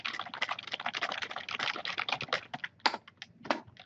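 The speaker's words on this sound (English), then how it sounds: "You type out your information." Fingers type rapidly on a computer keyboard while writing a research paper, a dense close patter of key clicks that thins into a few separate taps at the end, with no voices.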